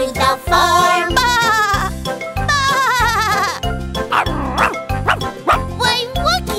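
In a children's nursery song about a dog on a tractor, a voice sings a barking woof several times over a bouncy, steady musical beat, imitating a dog rather than a real one.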